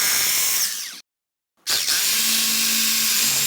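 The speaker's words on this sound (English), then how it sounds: "we're going to take our hammer drill. It's already got a 3/16 inch bit in it." Hammer drill fitted with a 3/16 inch bit boring into cement during an egress window installation: a loud, steady, high whine that cuts out for about half a second, then starts again and runs on.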